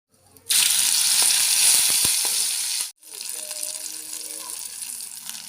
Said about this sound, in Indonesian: ini bumbunya sudah jadi dan mau aku tumis